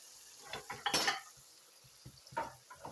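Shallots dropped into a hot frying pan at maximum heat, heard as faint clinks and scrapes of utensils against the pan with a brief louder clatter, over a quiet low sizzle.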